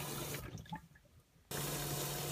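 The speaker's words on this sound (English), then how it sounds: "eventually water pours out of the top" Water gushing from the top of a faulty electric toilet in a caravan: a steady, loud rushing flow drops to a thinner trickle with drips, then surges back to full strength.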